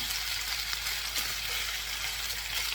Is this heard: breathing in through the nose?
no